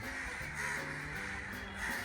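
Several crows caw outdoors at once, a steady cluster of harsh calls at moderate distance with no talking over them.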